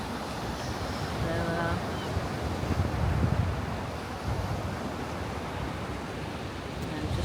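Gusty wind buffeting the microphone over steady surf and lapping waves at Ilfracombe harbour on an early morning, a broad continuous roar with a faint voice briefly underneath.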